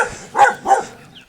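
Three big dogs on a walking route in Granada give two or three short, close, loud barks in quick succession.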